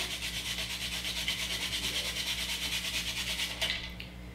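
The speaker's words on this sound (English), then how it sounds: "uses a nutmeg grater with the whole nutmeg" Whole nutmeg scraped over a small nutmeg grater gives a continuous rhythmic rasping, close and fairly loud, that stops abruptly near the end, with no talking.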